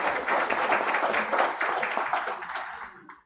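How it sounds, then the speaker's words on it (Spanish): Audience applause fills a ceremony hall at a criminal-law event, dense steady clapping from many hands that stays loud for about three seconds before tapering off quickly. "Fuertes aplausos también para él."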